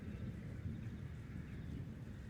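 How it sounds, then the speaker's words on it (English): Deep thunder rolls on as a steady, low, distant rumble in an ambient storm backdrop. It stays faint and continuous throughout with no voices. "Listen to that thunder."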